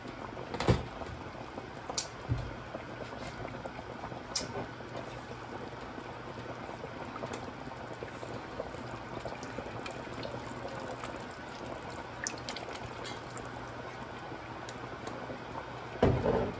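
Mussels (tahong) simmering in a pot, with a steady bubbling hiss and occasional light clinks and knocks from the pot, quiet and close with no voices.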